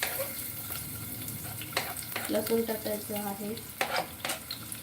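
Grated garlic fries and sizzles in a pan, a steady hiss under intermittent stirring scrapes, with someone speaking briefly over it.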